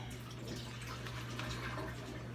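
Ammonia pours into an upcycled spray bottle, a steady close liquid trickle and splash with a low hum beneath, brief and continuous with no talk.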